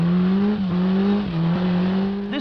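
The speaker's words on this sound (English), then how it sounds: "Richard Pilkington's Aston Martin." An Aston Martin climbs a hill climb road with a loud, close engine note held steady, dipping briefly in pitch a few times as it drives on, with no voices.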